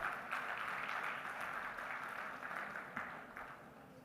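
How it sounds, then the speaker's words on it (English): Applause from a conference audience at a maritime event, a steady wash of clapping heard through a distant, hall-like pickup, moderately faint and fading slightly toward the end. "A round of applause."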